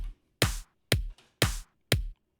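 A punchy electronic drum beat loops evenly, kick and snare hits alternating in a steady, fairly quick rhythm, dry and close.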